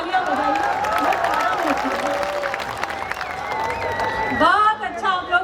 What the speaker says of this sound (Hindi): एक बार तालियां वालियां बजाइए।